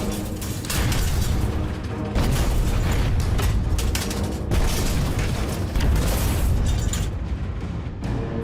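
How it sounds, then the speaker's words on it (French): Heavy booming blasts of depth charges rattle a wartime submarine, a continuous loud rumbling roar with repeated deep bursts and metallic shudders throughout, no voices. "Le sous-marin est ébranlé par une nouvelle série de grenades anti-sous-marines"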